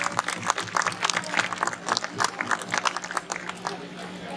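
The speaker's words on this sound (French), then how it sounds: "c'est pas mal, on peut applaudir" Audience applause at a fire station open day in Douai-Waziers, steady scattered clapping from a crowd with voices talking over it throughout.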